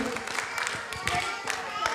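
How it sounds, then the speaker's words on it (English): Parents in the audience at a school annual concert clap together in a short, uneven round of applause with distinct sharp claps, and a voice carries over the clapping. "I would request all the parents to give a big round of applause for this wonderful, all the things that they have done."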